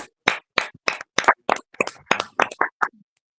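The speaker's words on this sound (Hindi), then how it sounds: "आइए ऊंचे ताली लगाते हैं और परमेश्वर का धन्यवाद देते हैं" A group claps hands together in praise and thanks to God at a church gathering, about eleven loud, sharp claps in a brisk, slightly uneven rhythm, close by, then quiet.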